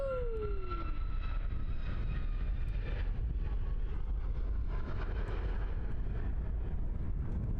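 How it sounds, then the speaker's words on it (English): Fiji Airways Boeing 787 Dreamliner departing Christchurch airport, a distant jet roar with a falling whine early on, steady and moderately faint over gusting wind. "Awesome departure there from Fiji."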